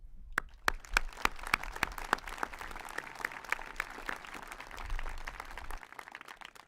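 Scattered applause from a high school graduation audience, sparse individual claps building into steadier clapping before fading, moderately distant.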